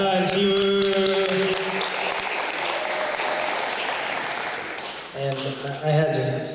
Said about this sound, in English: A round of applause for Hana and Jiwoo.